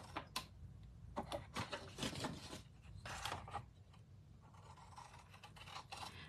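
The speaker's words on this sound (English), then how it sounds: "Then I'm going to cut it all the way along this line and this line right here. Let me get a longer pair of scissors." Scissors cutting cardstock along a drawn line for a summer card, a series of crisp snips and papery scraping strokes in uneven bursts, close and fairly quiet with short pauses between cuts.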